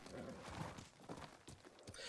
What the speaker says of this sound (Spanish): Mi caballo. Caballo.